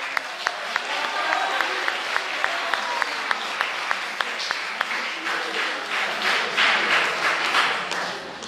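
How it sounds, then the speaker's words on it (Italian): Audience applause fills a room at a Day against violence toward women event in Ortona, a steady clatter of many hands with sharp individual claps standing out, swelling slightly toward the end. "che merita un applauso."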